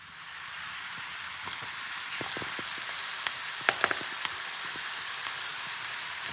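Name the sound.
beetroot frying in hot oil in pan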